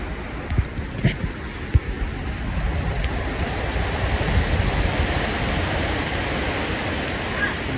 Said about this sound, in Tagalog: Ang lakas pa ng hangin mga katuna.